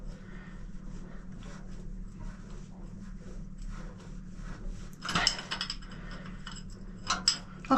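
A ratchet works on the engine glow plugs of a narrowboat with a quiet, irregular clicking of the pawl, then a few louder metallic knocks and clatters near the end.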